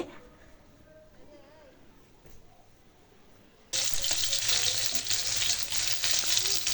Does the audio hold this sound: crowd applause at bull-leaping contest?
no